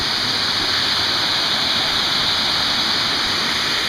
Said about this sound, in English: Got a nice breath of refreshing waterfall mist.